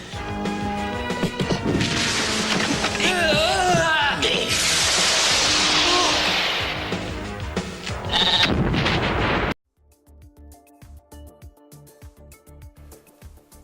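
Sheep bleat amid loud crashes and smashing impacts in a film scene where a sheep explodes, the bleats rising over a busy, dense mix before the sound cuts abruptly to quieter scattered knocks.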